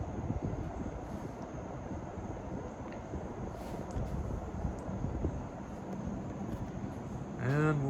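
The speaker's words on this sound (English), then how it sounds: "We'll go under the fan, and it's really cranking some air." Outdoor Craftmade patio ceiling fan blowing hard, a steady broadband rush of air close to the microphone that continues unbroken throughout, with a brief higher-pitched whine near the end.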